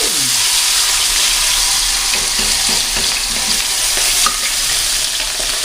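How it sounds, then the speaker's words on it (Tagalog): Two fairly large milkfish (bangus), split open and deboned, fry in a pan with a steady loud sizzle and spatter throughout, with occasional scraping and stirring on top. "Iprito muna natin itong dalawa nating bangus."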